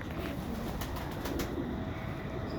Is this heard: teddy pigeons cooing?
yes